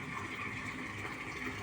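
River water flowing into a concrete tilapia pond, a steady faint rushing gush with no break, with nothing else over it.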